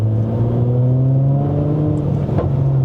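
A Mercedes-AMG C43 4Matic pulls away from a standstill in first gear, its engine note rising steadily and loud from inside the cabin, with a brief shift-like dip near the end.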